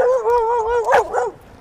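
A dog on a walk gives a short run of high, whiny yelping barks close by, with no talk over it.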